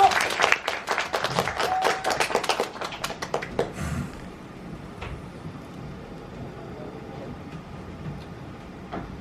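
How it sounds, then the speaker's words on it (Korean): A theater audience at a musical's special curtain call claps loudly and densely for about four seconds, then the applause fades into quiet room tone with a few scattered claps. "뜨거운 박수로 환영해 주세요."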